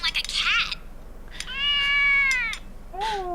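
A cat in the animated film Kiki's Delivery Service gives a short chirp followed by two drawn-out, clear meows, close and prominent.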